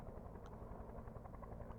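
A helicopter drones steadily in the distance, a low continuous rotor rumble with no voices over it.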